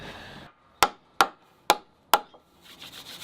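Four sharp, evenly spaced knocks of a mallet driving a chisel into wood in a workshop, each strike loud and close with a short decay, between quiet gaps and soft scraping at the start and end.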